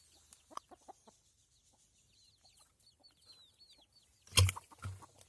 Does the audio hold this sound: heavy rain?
no